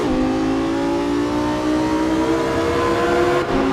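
An F1 car engine screams inside a tunnel in the Assetto Corsa racing sim, a loud, steady high-revving whine held throughout with a slight dip near the end, no voices over it.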